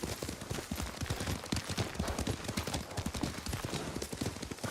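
Horse hooves clop in a rapid, steady galloping rhythm during riding in the video game Ghost of Tsushima, a continuous run of close, moderately loud strikes.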